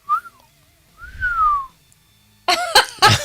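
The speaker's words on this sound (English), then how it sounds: "my whistle wasn't powerful enough" A person whistles two short rising-and-falling tones with a pause between them, then breaks into a burst of breathy, noisy sound near the end; close and clear, with no talking.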